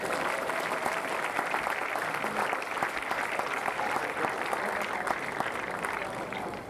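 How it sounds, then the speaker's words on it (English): Steady crowd applause at a baseball game in Newport, dense and continuous clapping from a sizable audience, fairly even in loudness for the whole stretch. "Let's give them all a big round of applause."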